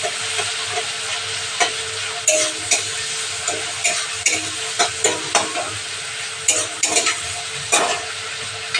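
Potatoes go into a pan of sizzling tomato and dried chili, bringing a steady, close frying hiss with frequent scraping and tapping clicks from stirring.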